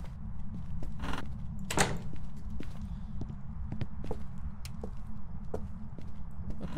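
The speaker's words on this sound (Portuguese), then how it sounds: "deixa eu fechar a porta" Door closing in the Phasmophobia horror video game, with a couple of sharp knocks and a scraping clunk among scattered clicks over a low steady hum, no talking.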